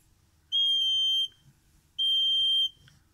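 An infrared alarm buzzer sounds two long, steady high-pitched electronic beeps, each under a second, separated by a short pause, with faint low background noise.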